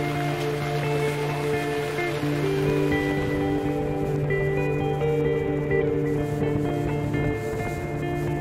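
Heavy rain pours down during an orca-watching boat trip, a steady loud wash of noise that runs unbroken throughout with a constant low engine-like hum beneath it and no speech.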